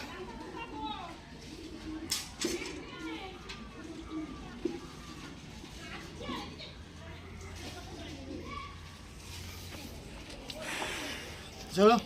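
Pigeons at a bird sale coo softly and repeatedly at close range, with a steady murmur of people talking over and between the calls.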